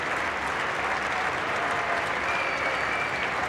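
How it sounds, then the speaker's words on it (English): A Sydney test-match cricket crowd gives a warm ovation to a young Indian batsman finishing not out, steady distant applause from the stands rolling on without a break. "A very good ovation from the crowd for the young Indian batsman."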